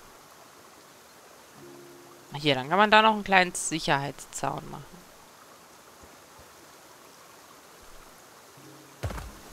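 A waterfall flows in the video game Hokko Life, a steady soft rushing wash that runs beneath a stretch of German speech and stays audible alone in the quieter moments.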